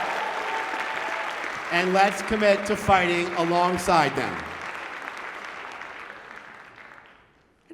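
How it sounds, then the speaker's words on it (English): Audience at a borough address applauding for an honoree, steady clapping running under a speaker's voice and then continuing alone before fading out. "Let's give Elena a round of applause"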